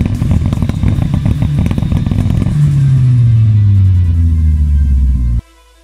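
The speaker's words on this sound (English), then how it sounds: "the exhaust note is amazing. It's a 3-inch tuning development exhaust system" Toyota Glanza EP91 with a 3-inch tuning exhaust, loud close-up engine note revving hard with a rattly, buzzing exhaust, then a long falling drone as revs drop before cutting off abruptly.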